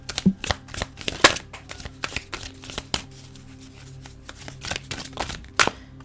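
Deck of playing cards shuffled by hand close up, a quick run of crisp riffling flicks and taps.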